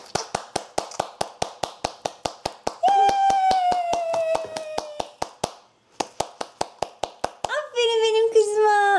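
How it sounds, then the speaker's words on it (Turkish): Baby girl clapping her hands at home, a quick run of sharp, evenly spaced claps close by, interrupted twice by high squealing child vocal sounds, then more claps before another squeal at the end. "Alkış yapmayı öğrendi."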